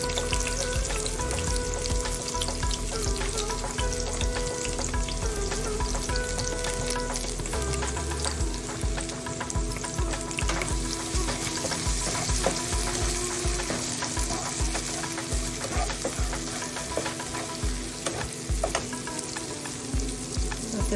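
Grated ginger fries in hot oil in a pan for a soy vegetable dish. A dense, continuous sizzle carries spoon scrapes and stirring sounds throughout, close and steady, with no talking.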